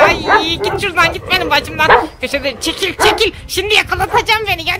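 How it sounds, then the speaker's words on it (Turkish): A dog in a house yips and barks near a frightened woman, its short calls mixed in with her continuous anxious talking throughout. "Havlıyor bu ya."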